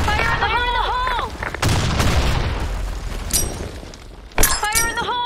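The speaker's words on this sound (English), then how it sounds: "Grenade! Grenade! Fire in the hole! Grenade!" A grenade explodes in the Blackshot first-person shooter with a loud boom and shattering crash, surrounded by gunfire and more blasts near the end. Voiced in-game callouts sound over the action.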